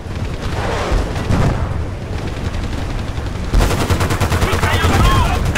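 Rapid automatic gunfire rattles in Battlefield Bad Company 2, dense continuous bursts, close and loud, with heavier blasts mixed in amid battle noise.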